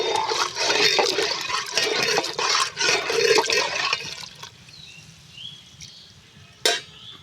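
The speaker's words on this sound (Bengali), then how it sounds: "চালের গুঁড়ো দিয়ে দিচ্ছি, এখনই নেড়ে নেব।" Rice flour is stirred into water in a cooking pot, giving a busy wet swishing and churning for about four seconds, then quieter movement and one sharp knock near the end.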